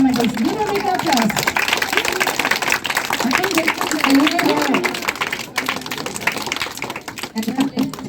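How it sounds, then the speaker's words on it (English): Audience clapping for a grade 8 student at a school's annual day celebration, a moderate continuous patter running under an announcer's voice over a loudspeaker. "Give a big applause."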